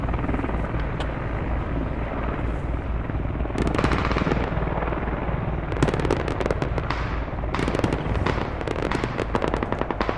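Gunfire in the tactical military shooter game Squad crackles in rapid bursts and scattered single shots over a steady, loud helicopter rotor drone.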